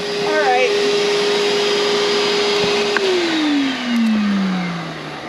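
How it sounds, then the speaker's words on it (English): Vacuum cleaner running on a luggage bay carpet, a loud close steady motor whine that holds, then drops in pitch as it winds down near the end. "We should vacuum it before we put it in."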